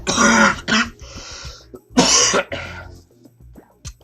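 A sick person on a livestream coughs and clears their throat close to the microphone, several harsh, phlegmy bursts with short pauses between them, followed by quieter rasping.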